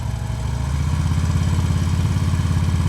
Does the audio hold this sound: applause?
no